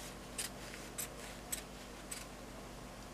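Scissors cut quilt fabric in four short, crisp snips spaced about half a second apart. The snips are close and quiet over a low hum, with no talking.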